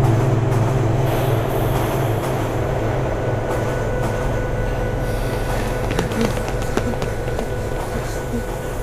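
A train rumbling steadily along, a loud continuous low drone with rattling wheels and occasional metallic clanks, close by, with no clear talk over it.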